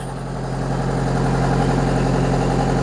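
The engine of a Miller Big Blue 700X Duo Pro welder idles at about 1300 RPM, a steady, loud, low mechanical drone with an even throb and no voices.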